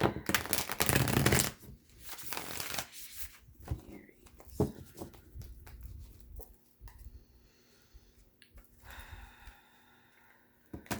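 Tarot cards being shuffled by hand in quick riffling bursts, loudest at the start, then softer handling and shuffling with short pauses, no talking.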